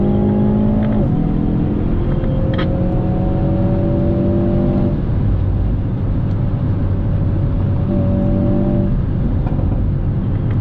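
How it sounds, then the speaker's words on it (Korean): A 2020 Hyundai Veloster N with an 8-speed dual-clutch gearbox, in N Grin Shift (NGS) mode, accelerates hard toward 160 km/h. The engine note climbs in steady rising sweeps, broken by quick gear changes, and stays loud and close throughout with no talk. "NGS 버튼 눌러주시고 160km까지 쭉 가속 진행해볼게요."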